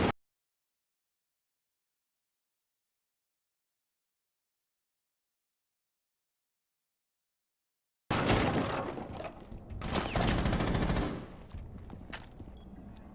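Gunfire in a first-person shooter match erupts after a long stretch of silence, a dense, loud barrage of overlapping shots and impacts that keeps going with slight swells before easing off somewhat.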